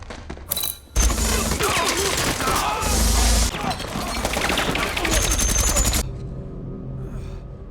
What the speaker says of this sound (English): activate machine guns mounted nearby, wiping out the men